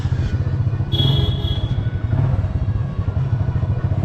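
A motorcycle engine rumbles steadily while riding in India, with wind noise and a brief higher whine partway through; no talking.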